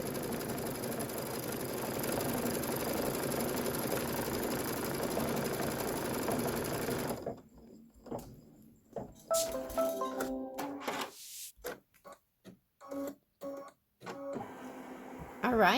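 Sewing machine quilting a Kimberbell Twilight Boolevard bench pillow top, running in a steady close hum for about seven seconds, then stopping and giving way to intermittent clicks, thread handling and a few short bursts of stitching.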